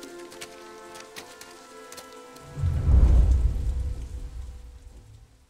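Rain in the Mafia remake game, entering about halfway as a loud, dense rush of downpour with a low rumbling swell like distant thunder, following a quieter stretch of ambient game sound.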